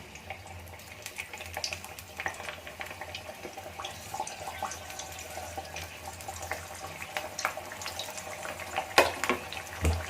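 Parippu vada lentil fritters fry in hot oil, a continuous crackling sizzle with scattered pops and bubbling, moderately loud and steady throughout.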